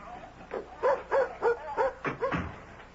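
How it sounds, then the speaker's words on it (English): A dog barks in a radio drama, five or six soft, evenly spaced woofs in a quick run, medium-close and fairly quiet, with no talk over them. "Ben, may I take the dog down to the beach?"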